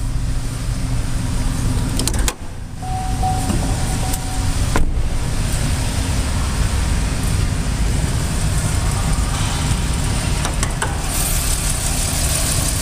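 A 2009 Pontiac Torrent's 3.4 liter V6 idles smoothly and steadily, a constant low engine drone heard up close with a couple of brief dips and faint clicks, no voices.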